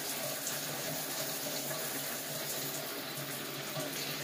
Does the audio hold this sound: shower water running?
yes